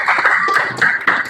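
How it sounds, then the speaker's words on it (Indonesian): A few students clapping in a classroom, a short patter of light, irregular hand claps, close and fairly loud, with no voices over it. "Tepuk tangan dong"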